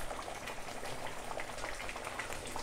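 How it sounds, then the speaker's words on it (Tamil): Tamarind rice paste bubbling in a pan, a dense, even simmering crackle and pop heard close and continuous. "இதையும் போட்டு 2 நிமிஷம் நல்லா கொதிக்க விடுங்க."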